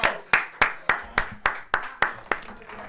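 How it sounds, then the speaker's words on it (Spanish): Audience applause at a live-streamed show comes as about ten sharp, evenly spaced claps in unison, loud and close, with no talking. "¡Aplausos!"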